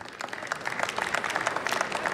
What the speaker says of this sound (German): dass Sie hier klatschen